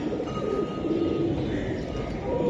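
Silver Giribaz pigeons coo softly and steadily at close range, a continuous low murmur of several birds with no pauses and no voices over it.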